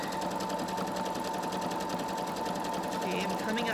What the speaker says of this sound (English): I'm going to turn that back on, letting the machine do the work.